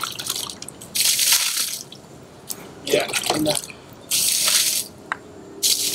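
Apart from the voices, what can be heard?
watering papaya plant roots with water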